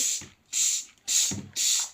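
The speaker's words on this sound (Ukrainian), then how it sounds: "Нарешті, нарешті з'явились пшикалки, які працюють в перевернутому вигляді." A Domestos active foam spray bottle held upside down and sprayed in four evenly spaced bursts, each a loud, close, breathy hiss with a soft trigger click between.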